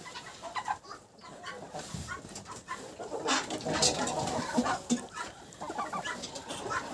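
Chickens cluck and murmur around a farmyard, several birds close by with scattered calls and soft background rustling throughout, no talk.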